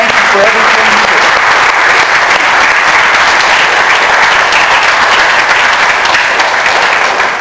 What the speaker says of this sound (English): let's give our fathers a round of applause